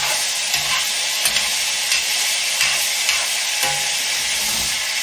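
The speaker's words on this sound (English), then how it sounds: "Rake your meat to one side like this." Ground meat for spaghetti sauce sizzles steadily in a pan, loud and close, while a utensil rakes and stirs it to one side in repeated scraping strokes; no talking.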